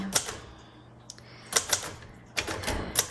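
A 1977 Royal Sabre typewriter with thick, blocky plastic keys is typed on, giving sharp clacking keystrokes in irregular clusters with brief pauses, close and fairly loud with no talking.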